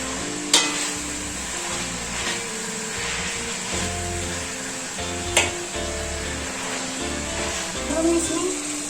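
Vegetables and peas stir-fried for street-style chowmein noodles sizzle steadily in a pan, with occasional sharp utensil knocks against the metal and a voice talking over the cooking.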